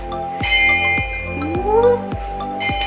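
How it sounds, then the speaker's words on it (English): A bell rings out repeatedly in a regular rhythm to call people to yoga class at a jungle retreat center in Costa Rica, each strike clear and ringing on over a steady background hum. "So that is the bell."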